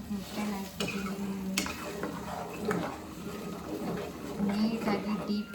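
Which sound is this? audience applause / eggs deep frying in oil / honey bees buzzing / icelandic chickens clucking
eggs deep frying in oil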